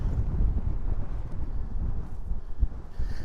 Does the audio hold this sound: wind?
yes